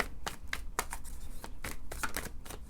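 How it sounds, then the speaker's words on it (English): A deck of tarot cards is riffled and shuffled again and again, giving crisp papery bursts in an irregular rhythm. The sound is close and steady, with no voices. "So, how I like to start is by shuffling."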